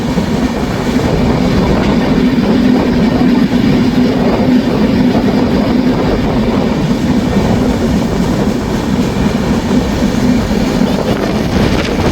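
A passenger train runs beside the Dhaka–Mawa expressway toward the Padma Bridge, its loud, steady rumble and rolling wheel noise continuing unbroken from start to finish.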